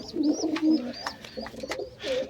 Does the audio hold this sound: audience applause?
no